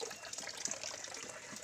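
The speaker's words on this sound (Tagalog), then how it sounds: "Kasi yung tubig konti lang lumalabas." Water trickling weakly from a tap on a farm, a thin continuous splashing stream, close and fairly quiet with no voices.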